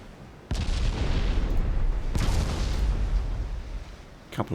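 Naval guns in a Greek campaign war game boom in heavy, close bursts: a loud salvo opens, another follows about a second and a half later, and a sustained rumble of shell hits on an enemy ship's aft armor belt carries between them.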